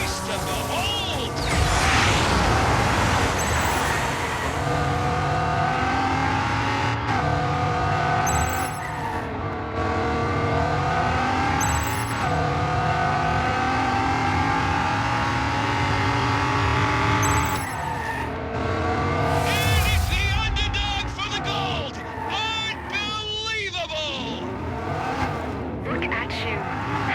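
Race cars roaring through a video game race, engines droning steadily with rising and falling revs, tire squeals and skids cutting in, loud and continuous with speech layered over it.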